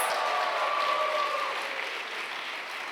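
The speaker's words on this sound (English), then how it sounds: "can I get a big round of applause for Manchester Mnight 2023?" Audience applause at the Manchester Mnight 2023 evening event, a steady wash of clapping from a crowd at moderate loudness that fades slightly toward the end, with a brief whistle early on.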